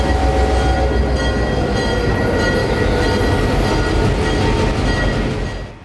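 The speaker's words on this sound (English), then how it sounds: "after following the train south, 1835 hooks onto the front of the train" Steam locomotive 1835 at the Florida Railroad Museum coupling onto the front of a train, with a steady loud rumble of rail cars and machinery throughout and faint metallic clanks.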